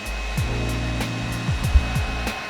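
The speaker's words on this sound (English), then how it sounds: "I'm gonna take the heat gun again. Up and down." A heat gun blows steadily at close range, warming wax into the leather panels of a college football, a loud continuous airy whir with faint rhythmic ticks from the strokes moving up and down.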